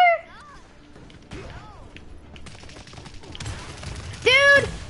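Video game gunfire cracks in scattered, fairly faint shots and bursts, while voices and brief squeaky tones come and go.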